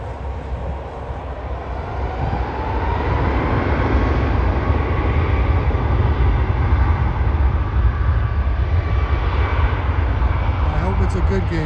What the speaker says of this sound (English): Emirates is actually taxiing down the runway in the opposite direction because it's so wide